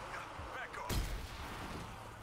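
A single sharp gunshot cracks out in Zombie Army 4, one loud report with a short rumbling tail, set among quieter game sounds and a speaking voice.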